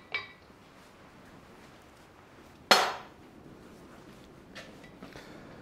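A couple of hammer blows on steel at an anvil during forging of a leaf key-chain, one loud ringing strike followed by faint metallic taps with quiet gaps between.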